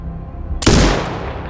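A single loud, sharp sniper rifle shot in the video game Sniper Ghost Warrior Contracts 2, a sudden close crack followed by a long rolling echo tail, with no talk over it.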